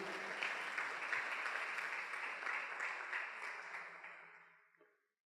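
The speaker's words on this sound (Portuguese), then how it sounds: "Se você crê nisso, dê um aplauso ao Senhor." Congregation applause for the Lord in a church service, a broad wash of many hands clapping at moderate distance that holds steady, then fades out smoothly over the last second.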